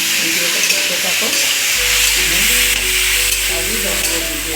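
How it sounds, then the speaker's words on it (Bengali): Carrots fry in a pan for homemade fried rice, producing a loud, steady sizzle close by that continues throughout, with a low hum and faint background voices underneath. "গাজরটা ভাজা হতে লাগবে"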